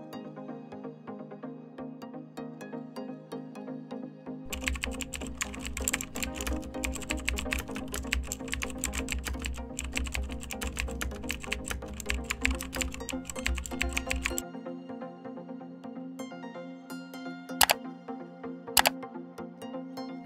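Fast typing on a computer keyboard, a dense burst of close, crisp keystrokes lasting about ten seconds, bracketed by quiet with a couple of sharp clicks afterward.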